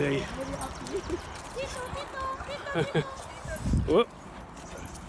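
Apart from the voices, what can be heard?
dogs on a walk whimpering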